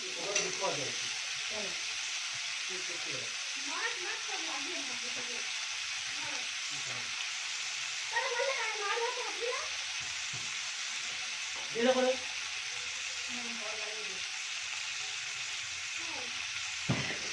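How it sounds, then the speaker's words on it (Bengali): Shrimp frying in a pan for potol chingri, a Bengali pointed-gourd and prawn dish, giving a steady close sizzle throughout with occasional brief scraping stirs. "চিংড়ি মাছটা দেখতেই পাচ্ছ ভালো করে ভাজা হয়ে গেছে"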